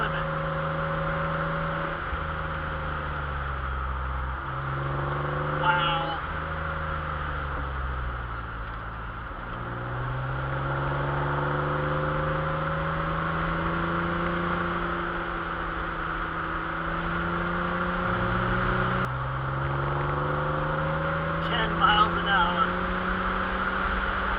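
1985 Pontiac Fiero GT driving in second gear on a highway, its engine drone steady and moderately loud from inside the cabin, pitch rising and falling with several gear-related sweeps as it accelerates.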